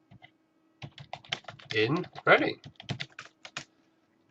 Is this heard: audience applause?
no